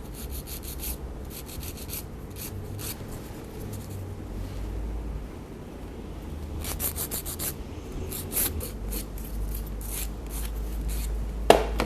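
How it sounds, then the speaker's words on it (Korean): A nail file rasps against a sculpted gel nail extension in close, soft scratching strokes that come in steady repeated bursts, with a few sharper scrapes toward the end. "젤은 다른 연장 방법에 비해서 파일링이 잘 되기 때문에 너무 세게 파일링을 하지 않도록 주의하셔야 합니다"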